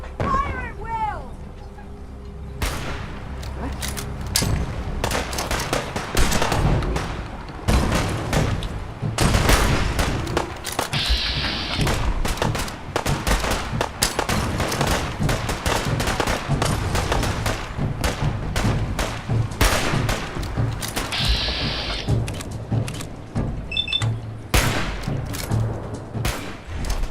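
Dense gunfire from a Fallout 4 survival-mode battle, with rapid volleys of shots and heavy thuds crowding together for nearly thirty seconds, loud and close, with shouted voices breaking in at times.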